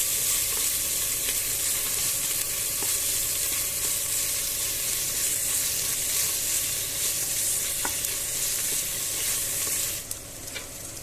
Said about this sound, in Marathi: आता आपण लसूण, अद्रक आणि अद्रकला चांगलं तळसून द्यायचं